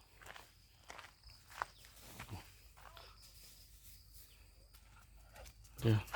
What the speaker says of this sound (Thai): แล้วก็เดินกลับบ้านแล้วนะครับ